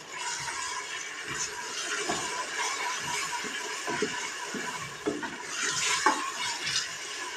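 Tomatoes go into a cooking pan for chicken chana daal, with steady stirring and scraping of a utensil against the pan over a soft sizzle, close and continuous throughout.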